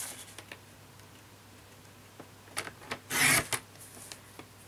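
Paper being cut for a handmade mini album, quiet and near, with a few soft snips and rustles and one short louder slicing burst toward the end.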